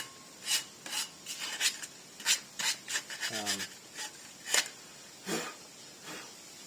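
A hand file rasps rough edges off a freshly trimmed part during a fuel pump install, a dozen or so irregular close strokes with short pauses between them, including one quick burst of rapid strokes, and no talking.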